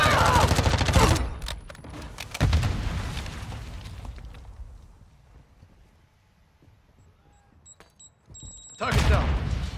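Gunfire during a team deathmatch round in a video game comes in loud broadband bursts at the start, around the two-second mark and again at the end, with quieter rumbling and clatter between and voices talking over the action.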